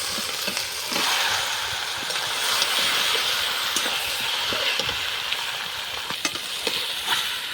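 Chicken pieces go into fried spices in a pan with potatoes, producing a continuous loud sizzle and crackle, with scattered scraping stirs and clinks of a spatula throughout.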